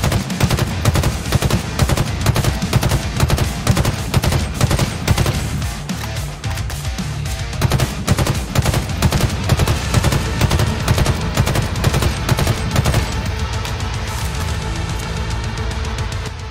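A BR-75 battle rifle in Halo Infinite fires in fast repeated bursts, loud sharp reports pulsing in steady clusters throughout, with brief pauses between strings of shots.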